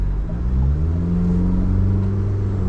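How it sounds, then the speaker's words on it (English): A small-capacity diesel car engine revs at low speed, its steady rumbling clatter loud and close, building slightly in pitch with no voices over it. "But low down, yeah, there's a lot of that typical diesel clatter."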